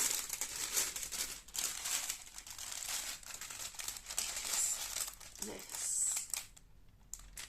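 Crinkly plastic packaging rustles and crackles in the hands at close range, irregular bursts of crumpling with a brief quieter lull, while a person talks softly.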